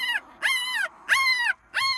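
Young puppy crying during weighing, four drawn-out high-pitched whimpering yelps in a steady rhythm with short pauses, close and clear.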